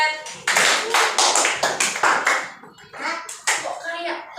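A classroom of children clapping, with several separate sharp claps spread over a few seconds rather than one unified clap, mixed with the voices of an adult and children talking nearby.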